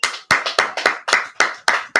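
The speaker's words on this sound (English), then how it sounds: "Like clap it up for him" An audience claps in a slow, loose rhythm at a religious gathering, about nine distinct, close, sharp claps spaced roughly a quarter second apart.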